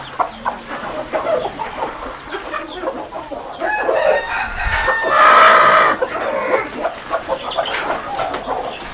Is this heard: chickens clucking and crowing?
yes